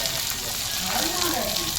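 Chopped onion sizzles in hot oil for tempering, a dense, even hiss of frying that stays loud and constant from start to finish.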